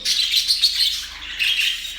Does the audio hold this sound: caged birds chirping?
yes